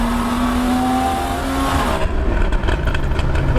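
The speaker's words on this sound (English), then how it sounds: "Combination of notes, chords, harmonies from the intake and exhaust combine together to form different cadences throughout the rev range." A Porsche Boxster 981 flat-six engine revs loudly up close, its intake and exhaust note climbing in a steady rising tone before dropping off into a rougher, pulsing burble.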